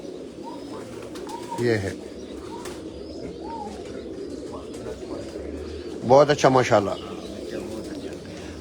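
Pigeons coo softly on a rooftop, with low murmuring calls scattered through a steady background, a couple of brief flutters or louder bursts standing out, while someone talks over them.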